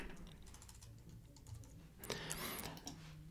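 Faint, quick keystrokes on a computer keyboard rattle along in an uneven patter, with a denser flurry of clicks near the end and no speech.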